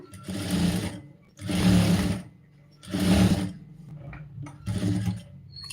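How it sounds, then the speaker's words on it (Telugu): A sewing machine stitches piping with a loose stitch, running in four steady whirring bursts of about a second each, separated by short pauses, close and moderately loud. "దీన్ని లూజ్ కుట్టు పెట్టి వేసుకుందాము"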